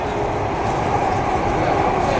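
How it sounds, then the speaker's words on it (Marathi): A Mumbai underground metro train runs at speed through its tunnel, giving a loud, steady rumbling roar with wheel and rail noise that stays even throughout. "नेक्स्ट स्टेशन आता देवी मंदिर आहे आणि स्पीड पण खूप आहे ट्रेनचा बघा"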